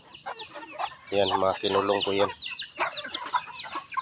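Free-roaming farm chickens cluck in short bursts around a rural yard, with a brief harmonic squawk near the middle; someone talks over the birds throughout.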